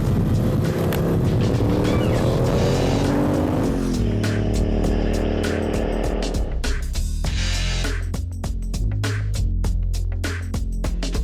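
An Aprilia Caponord Rallye motorcycle engine roars and revs continuously, rising and shifting pitch as it rides past, loud and close throughout without speech.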